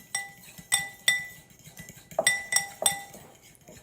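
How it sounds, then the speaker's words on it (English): A whisk striking the sides of a bowl while beating six egg yolks together, giving a string of bright, close clinks in an irregular rhythm, with quieter scraping between the strikes. "And you just want to whisk all of the yolks together."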